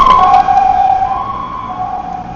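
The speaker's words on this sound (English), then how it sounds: "And we have one more chance to hear what the ambulance sounds like." An ambulance siren passes along a local street in Samkong, Phuket, Thailand, a loud, steady wailing tone that slowly drops in pitch and fades as the vehicle moves by.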